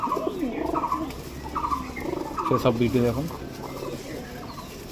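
Rampuri and Kalduma show pigeons coo in soft rolling phrases close by while someone talks over them.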